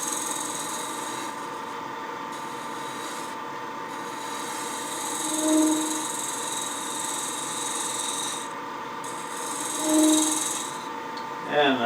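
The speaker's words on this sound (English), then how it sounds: "when I use this negative rake scraper, I like the curved shape for a box lid" A negative rake scraper shaves a curved wooden box lid, held against a spinning lathe. A steady, close rasping rub runs under the constant whine of the lathe, swelling briefly in a few places.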